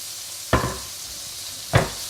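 Carrots hit a hot pan of cooked chicken for chow mein, giving two sharp sizzling bursts a little over a second apart over a low steady frying hiss.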